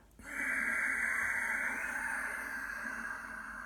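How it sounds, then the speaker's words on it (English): A single long, steady ujjayi breath exhaled through a constricted throat, making a soft oceanic hiss, close and fading slightly toward the end. "as you do ujjayi breath, it'll sound like this."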